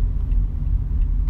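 A car driving on the road, heard from inside as a steady low engine and road rumble filling the short span with no talking.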